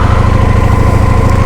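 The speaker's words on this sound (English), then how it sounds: "This is a cold start. Let it run for a little while before you actually get on." A Honda Shadow 750 Ace motorcycle with a liquid-cooled engine idles after a cold start, a loud, close, steady low thumping rumble with an even rapid pulse throughout.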